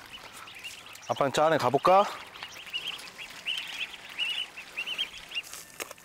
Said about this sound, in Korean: 일하는데 웬 오리인가 싶은데요